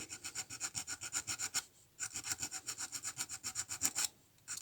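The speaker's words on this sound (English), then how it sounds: "In which case, just put a baby chamfer on the edge." A file rasping a small chamfer onto the ends of model railway track in quick, even back-and-forth strokes, close and clear, broken by two short pauses; no talking.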